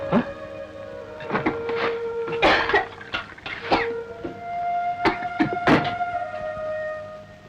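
Several harsh coughs in short bursts, spaced irregularly over a low steady background hum.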